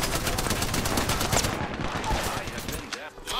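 Continuous rapid gunfire in the battle royale shooter Apex Legends, dense and loud automatic bursts that fade toward the end.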